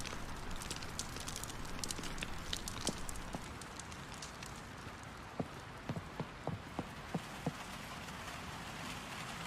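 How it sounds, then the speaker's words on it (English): Faint fire crackling mixed with soft rain on a surface, scattered sharp pops and snaps sounding over a steady, quiet patter. "Listen to that fire crackle."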